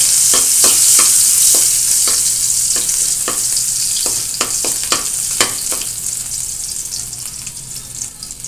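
Ginger and garlic sautéing in a pan for a fish-innards papaitan: a steady, loud sizzling hiss broken by repeated sharp clicks and scrapes of a spatula stirring, fading slightly toward the end.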